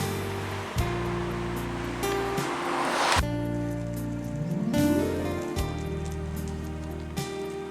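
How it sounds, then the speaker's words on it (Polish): Steady rushing water of the Nysa Kłodzka river flows continuously under a bridge, a soft even hiss and murmur heard from a distance with no voices. "Oto rzeka Nysa Kłodzka, widziana z mostu."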